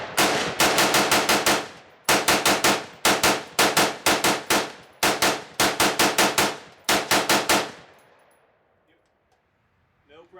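An AR-15 rifle empties a magazine in rapid strings of close, loud shots with brief pauses between the bursts, ending in a fading echo and quiet.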